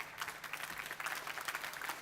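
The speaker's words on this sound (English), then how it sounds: "First of all, a round of applause." Faint, distant applause from an audience after a panel talk at an industrial additive manufacturing conference, a soft even patter of clapping with a low steady hum beneath.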